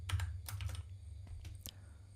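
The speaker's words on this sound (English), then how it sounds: "I'm gonna type" Typing on a computer keyboard, a couple of quick bursts of close, soft key clicks with short pauses between, against a low steady hum.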